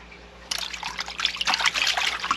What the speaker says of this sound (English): Okay, so now I'm draining again.